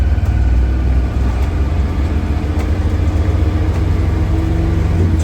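Diesel engine of a 1959 Plymouth taxi running and revving with no load, a loud, close, low rumbling drone with uneven throttle swells and no talk.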